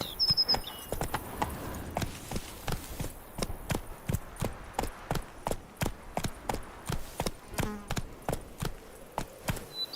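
Hooves of Roach, a horse in The Witcher 3: Wild Hunt's Blood and Wine, clop in a steady, even rhythm at moderate distance, with a faint high chime near the start.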